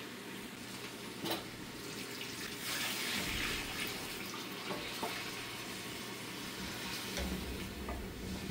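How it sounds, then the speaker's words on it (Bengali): Broth water is poured into a pot of cooking duck meat, making a steady, fairly quiet splashing pour with a sizzle underneath that runs on for several seconds without talk. "এখন এর মধ্যে সামান্য ঝোলের পানি দিয়ে দিব"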